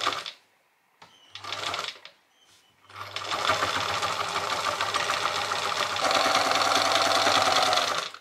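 An old sewing machine stitches a bib onto a denim apron made from jeans, with two short bursts of whirring and clatter, then a sustained run of close, steady mechanical stitching.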